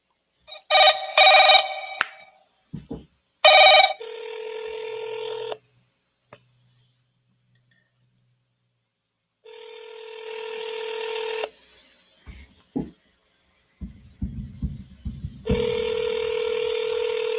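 A telephone is keyed with a burst of bright dialing tones, then a ringback tone sounds in steady repeated pulses with gaps, loud and close, while a few brief clicks and rustles fall between the rings.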